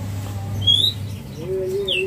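Javan myna chick chirping in a few short, thin calls, close and fairly soft over a low steady hum, no talk.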